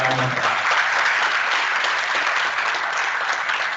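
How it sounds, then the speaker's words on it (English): A crowd claps steadily at a conference inaugural ceremony, sustained applause filling the room for several seconds without a break. "please give a quick applause to ma'am"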